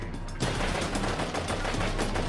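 Continuous automatic gunfire during a bank shootout, a dense rapid stream of shots that swells suddenly after a brief lead-in and continues steadily, heard at moderate distance.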